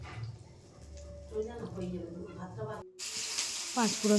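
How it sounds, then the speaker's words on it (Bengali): Panch phoron spices crackle in hot oil in a wok, a soft hissing sizzle mixed with clattering and someone talking over it, while a brighter burst of sizzling rises near the end. "কড়াইয়ের মধ্যে দিয়ে দিয়েছি পাঁচফোড়ন"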